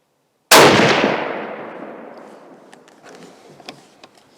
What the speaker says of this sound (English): Once we're ready, the line is hot. We're ready to fire.